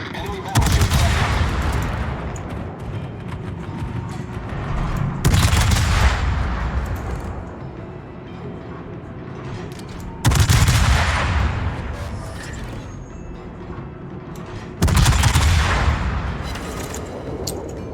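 Naval guns fire in World of Warships aboard the cruiser Des Moines: four heavy, booming salvos land about five seconds apart, each followed by a rolling rumble.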